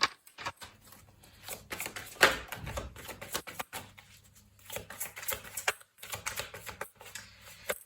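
Tarot cards shuffled and drawn by hand, a run of soft riffling flicks and papery slaps at close range, with no talking.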